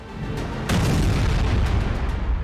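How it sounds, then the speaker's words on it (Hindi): A deep, sustained boom rolls through as a bomb explodes during a strike on Tehran, a heavy low rumble swelling partway through and lingering loudly without any voices over it. "तेहरान पर बम बरस रहे हैं"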